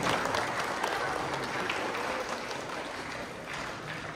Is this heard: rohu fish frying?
no